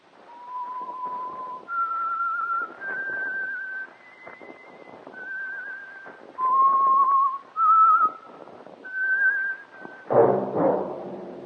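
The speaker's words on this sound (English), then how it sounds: "That whistle is your signal for the Signal Oil program" A clear, sustained whistled melody, the radio theme of The Whistler: a string of long held notes stepping up and down, ending in a brief burst of broader sound.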